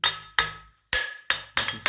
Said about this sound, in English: after striking it with the hammer on all sides uniformly